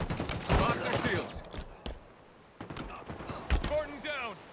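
Bursts of rapid gunfire in Halo Infinite crackle in short volleys, mixed with voices and scattered impacts, moderately loud then tapering.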